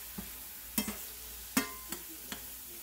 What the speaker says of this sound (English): this is ground turkey that I'm